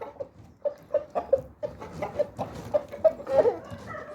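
Roosters of a fighting-bird flock give repeated clucks and short calls in an irregular rhythm, fairly close and moderately loud, with no talk over them.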